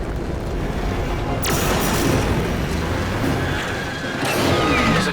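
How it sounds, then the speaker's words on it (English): A phaser-style shot fired at a ring's locking mechanism in the 2013 Star Trek PC game, a sharp crack near the start of a loud, dense rumble of battle effects that swells and churns throughout. "Captain, now would be a good time to shoot the locking mechanism."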